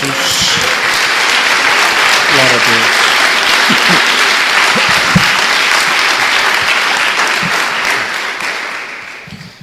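A church congregation breaks into loud, sustained applause that fills the room, with a voice calling out over it before the clapping tapers off at the end.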